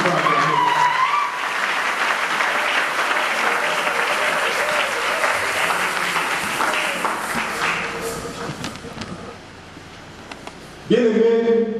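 A church congregation applauds in dense, sustained clapping with a sung or spoken voice riding over it, thinning slightly toward the end before a louder voice cuts in.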